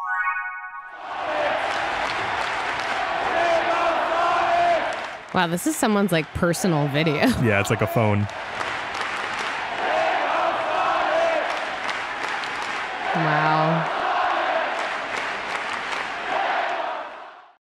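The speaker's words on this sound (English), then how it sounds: "And they cheer that as Kevin Durant eggs them on in this last game." A large arena crowd of Seattle SuperSonics fans roars and chants continuously at the team's last basketball game, with bursts of cheering and applause throughout, while people nearby talk over the loud crowd noise.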